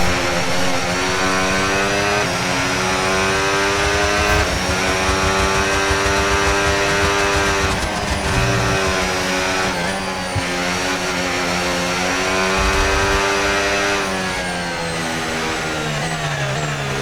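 Formula 1 cars in the F1 26 racing game scream past at full throttle on a final lap, a loud sustained high-revving engine whine with shifting pitch and gear changes, no talking.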